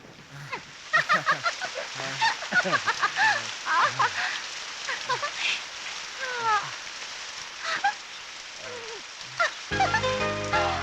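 Rain falls steadily in an outdoor scene, a broad wash of drops running the whole stretch with bird-like chirps and scattered tonal calls over it, and a burst of music comes in at the very end.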